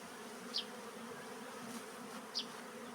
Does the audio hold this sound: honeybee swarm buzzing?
yes